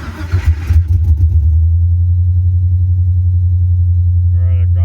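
A 2000 Pontiac Firebird engine cranks and catches, then settles into a loud, steady, throbbing idle close by, with a brief voice near the end.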